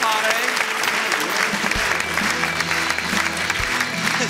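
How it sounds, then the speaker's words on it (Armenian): A studio audience on a sports talk show applauds athletes with steady, dense clapping, while voices carry on talking over it. A couple of low thumps break through the sustained wash of claps. "Բրավո, եկեք ծափարենք մեր բոլոր սպորտսմեններին։"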